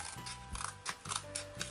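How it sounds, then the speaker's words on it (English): Scissors snip through paper for a Halloween flip book, several quick close cuts in an uneven rhythm, faint and alone with no talking. "I cut them both in once, hopefully."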